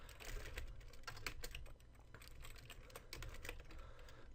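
Code being typed on a computer keyboard: a quick, steady run of close, crisp key clicks with brief pauses, alone and fairly quiet.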